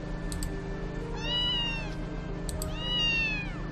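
A cat meows twice in the visual novel game Princess Evangile, two clear, drawn-out calls over a steady hum of background music, fairly close and moderately loud.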